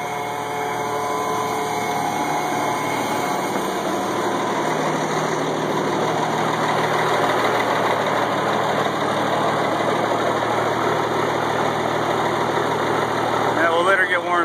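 A 1986 AM General M35A2C military truck engine idles steadily and loudly after a cold start, a constant low rumble running throughout with a voice talking over it.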